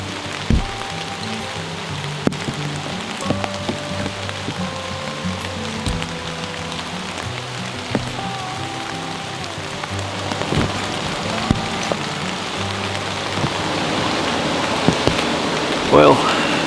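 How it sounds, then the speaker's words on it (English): Steady rain falls through the woods on a West Virginia archery hunt, a constant close patter on leaves and ground with scattered sharper drops and faint low rumbles underneath. "Rain, if anything, is just picking up here"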